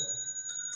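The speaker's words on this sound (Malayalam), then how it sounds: "എവറി 15 minutes ഈ ചെറിയ ബെൽസ് അടിക്കും" An antique palace clock at Kowdiar Palace strikes its small bells in faint, clear metallic chimes, with a couple of quick rings ringing out over a quiet room.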